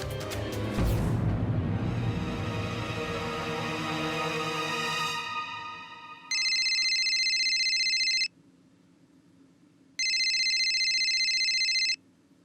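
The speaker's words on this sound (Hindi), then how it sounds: "पता नहीं किसका फोन था" A telephone rings in a home, two bursts of a bright electronic ring each lasting about two seconds with a pause between, heard after a stretch of background music fades out.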